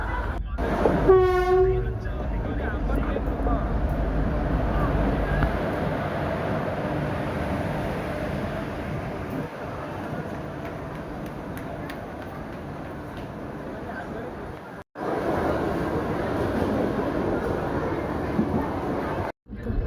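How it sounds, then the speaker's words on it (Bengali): A train pulling into a station at evening, its horn blaring in a long stepped blast near the start, followed by a sustained rumbling roll of passing wagons and rail noise, loud and close throughout. "আমাদের ট্রেন ঢুকেও গেছে"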